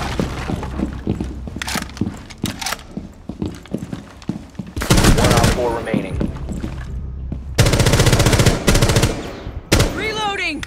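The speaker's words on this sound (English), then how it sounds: "队长打那么多枪，我以为在他那" Bursts of automatic gunfire from a Rainbow Six Siege multiplayer match, loud rapid volleys in several separate clusters with short gaps, ending in a long sustained burst, no talk.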